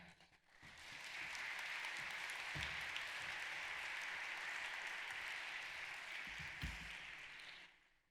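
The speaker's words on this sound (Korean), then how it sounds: "이사장님 나오실 때에 여러분 뜨겁게 환영의 박수 부탁을 드립니다." A university graduation ceremony audience claps to welcome the board chairman to the podium. The applause is steady and sustained for several seconds, then fades out, heard at a moderate distance.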